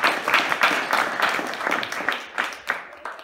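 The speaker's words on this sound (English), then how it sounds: "You guys, you're clapping without revelation." A church congregation claps during a Father's Day sermon, a steady patter of many hands at moderate volume lasting a few seconds, without speech over it.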